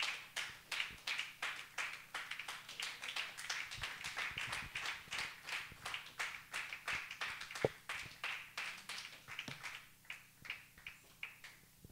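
Congregation clapping in a church, a steady run of close, crisp hand claps repeating rhythmically for the whole stretch, loud and sustained without speech over it.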